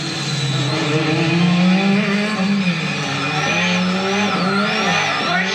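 A Renault 5 Turbo being driven hard, its engine droning loud and steady with rising and falling harmonics, plus brief tire squeal as it slides through corners.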